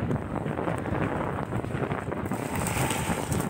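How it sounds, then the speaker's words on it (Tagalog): Continuous wind buffets the microphone with a loud, rumbling rush, steady and close throughout, while travelling from San Carlos to Calatrava. "medyo malamig-lamig naman yung simoy ng hangin"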